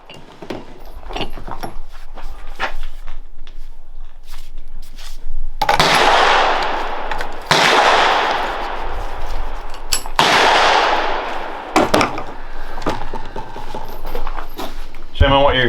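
A 5.56 rifle fired through a suppressor gives several sharp, loud cracks spaced a few seconds apart, each decaying quickly, with people talking between the shots.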